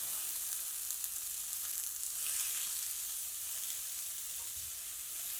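Potato and okra stir-fry sizzles steadily in a pan with a soft, even hiss. The sound stays moderately loud and unbroken throughout, with no talking.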